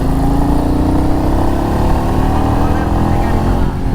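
A Royal Enfield Meteor 350 motorcycle engine drones steadily while riding, a loud, continuous mid-pitched hum with wind rush that holds even throughout, dipping briefly near the end.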